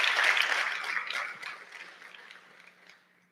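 Applause from a church congregation praising God, starting full and bright, then thinning out and fading to silence within a few seconds.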